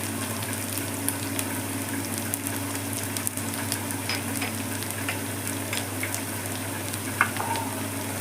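Ingredients for a cabbage fry sizzling steadily in a hot pan, a continuous crackling hiss with occasional sharper pops and faint stirring clicks.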